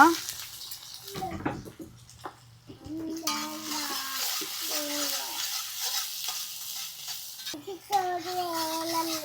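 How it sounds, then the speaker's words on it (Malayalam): Onion sizzling in hot oil with mustard seeds, fenugreek and cumin, stirred in a pan; steady close frying hiss with clinks of a utensil and a brief voice in the background. "എണ്ണ ഒഴിച്ചു കൊടുക്കുന്നുണ്ട് കുറച്ച് കടുക് ഉലുവ കുറച്ച് ജീരകം അത്തെറിക്കണേ എന്നിട്ട് അതിലേക്ക് സവാള"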